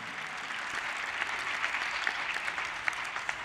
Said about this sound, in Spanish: Dele un aplauso, en toda libertad, dele un aplauso.